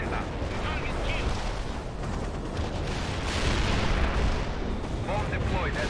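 Bomb explosions in the video game World in Conflict, a dense, continuous rumble of booming blasts that swells slightly partway through.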